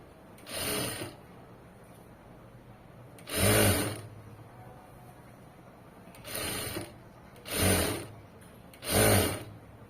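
A sewing machine stitching fabric runs in five short, loud bursts of rapid mechanical clatter, separated by quiet pauses.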